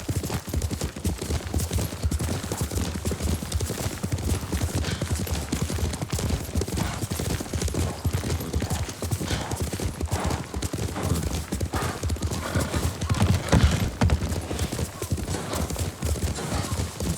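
A horse gallops under its rider in the video game Ghost of Tsushima, hooves clip-clopping in a fast, continuous rhythm close by, with a light wash of game ambience.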